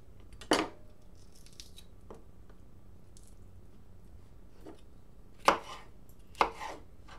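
A knife cuts cabbage and tofu-class ingredients on a board during a cooking class, giving a few sparse, sharp chopping knocks spread over several seconds, fairly quiet and with no talk.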